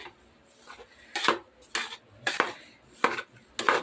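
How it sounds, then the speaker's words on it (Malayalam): Rice being stirred and fried in a pot gives a few sharp, close scraping clatters of a utensil against the metal, coming in bursts roughly every half second to second with quiet gaps between, and no talking. "നല്ലോണം ഇളക്കുക കുറേ നേരം ഇളക്കി അതൊന്ന് വറുത്തെടുക്കണം"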